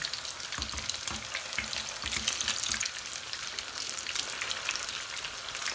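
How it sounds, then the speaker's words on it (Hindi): Kebabs, a Chinese-style kebab bound with egg, fry in hot oil with a steady broadband sizzle, with soft low thumps as they are turned and shifted in the pan, close and fairly loud throughout. "दोनों साइडों से गोल्डन ब्राउन होने तक फ्राई करना है"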